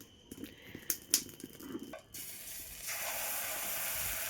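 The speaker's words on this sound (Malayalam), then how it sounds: "അങ്ങനെ ദേ അപ്പമൊക്കെ ഇവിടെ ചുട്ടെടുത്തുകൊണ്ടിരിക്കുകയാണ് കേട്ടോ" Appam cooks in a pan on a stove. A few light clatters and taps come first, then a steady, soft sizzling hiss carries on to the end, close and quiet.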